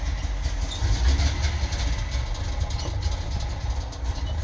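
A DKW two-stroke car engine idles steadily at about 1,000 RPM after a fresh start, a close, continuous low rumble with a slightly uneven throb throughout.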